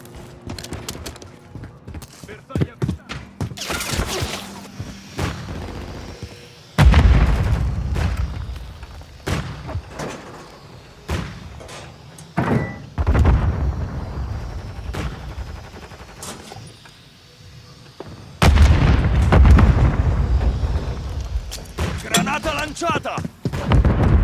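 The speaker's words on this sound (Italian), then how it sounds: "Hanno lanciato un missile cruise." Heavy booming blasts and gunfire from a Call of Duty match, with a cruise missile strike landing among loud thuds and rapid shots; sharp onsets recur throughout, with a player talking over parts of the action.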